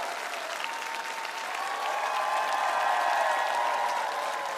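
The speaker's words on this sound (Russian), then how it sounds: "Эти аплодисменты вам." Sustained applause from a large audience at a premiere, swelling slightly midway, dense and steady with no voices over it.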